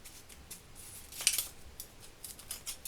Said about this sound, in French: Donc je vais couper un ruban.